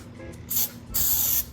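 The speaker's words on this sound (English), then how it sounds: "I have some Pam baking spray here. So I just spray this right in the pan." Pam baking spray is sprayed into a cake pan for a lemon Bundt cake: two close, crisp hissing bursts, the second longer, over quiet kitchen background.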